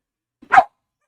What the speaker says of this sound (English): What are you barking at?